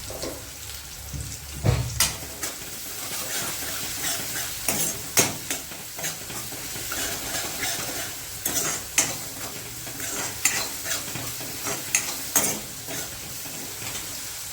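Onion frying in a pan with a little salt, a steady sizzle under repeated scraping stirs of a spoon, close and moderately loud, with no talking.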